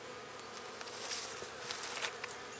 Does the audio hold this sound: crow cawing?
no